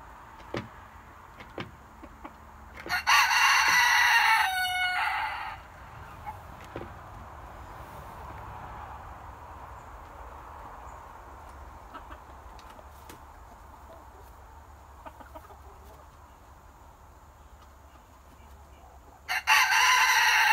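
A rooster crows loudly nearby, a long drawn-out call, followed by a quiet stretch of faint outdoor ambience before another crow begins.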